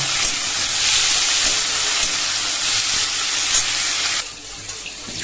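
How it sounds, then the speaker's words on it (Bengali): Potatoes fry with cumin seeds in hot oil, giving a steady, loud, close hiss and sizzle that drops suddenly near the end. "এই দেখো এখানে একটু জিরা ফোড়ন দিয়ে আলুটা দিয়ে দিয়েছি, আলুটাও ভাজা হয়ে গেছে।"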